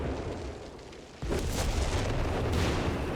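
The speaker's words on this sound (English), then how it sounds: "That's super annoying to have your base barraged by artillery." Artillery barrage in the real-time strategy game Company of Heroes 3, a dense continuous rumble of overlapping explosions and booms that swells after a brief lull and keeps roaring.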